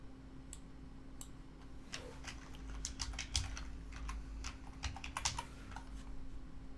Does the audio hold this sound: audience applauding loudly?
no